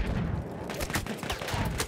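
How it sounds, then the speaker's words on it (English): Gunfire in the Battlefield 1 video game comes as a rapid, dense burst of sharp shots, loud and close, forming a chaotic volley that lasts a couple of seconds. "who's shooting at me?"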